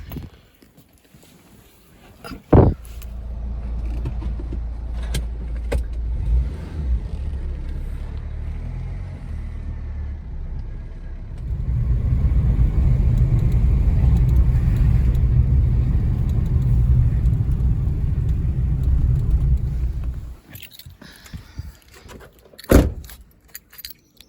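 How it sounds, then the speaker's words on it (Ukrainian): A car idles, then drives with a steady low engine rumble and road noise that grows louder midway and stops, with keys jangling and door clunks at the start and end. "Моє авто на сьогодні."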